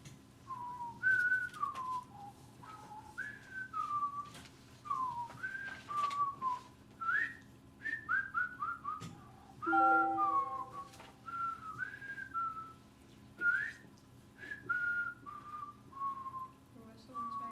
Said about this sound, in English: Your whistling is very off key.